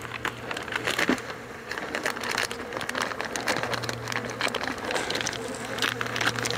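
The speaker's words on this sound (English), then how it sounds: "Let these bees escape." Honeybees buzz around an opened hive during winter feeding, a steady close drone with crackling handling noise throughout.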